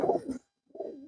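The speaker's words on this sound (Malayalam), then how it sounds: "ഇത് നമ്മൾ ടൂർണമെന്റ് പറപ്പിച്ചുകൊണ്ടിരിക്കുന്ന ലൈനേജ് പ്രാവായിരുന്നു." Tournament-flown lineage racing pigeons calling in a loft, two short bursts of low throaty cooing close by, separated by a brief silent gap.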